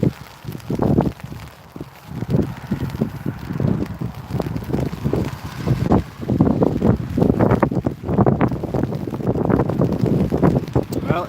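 Gusty wind and rain at Newcastle International Airport batter the microphone with continuous rumbling buffets and rushing noise, loud and close throughout, with no clear talk.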